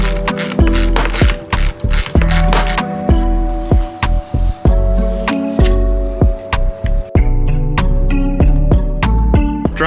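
Rapid metallic ratchet clicks in repeated bursts, close by, with brief pauses between runs of tightening a nut while installing side skirts on a Toyota GR86; no voices.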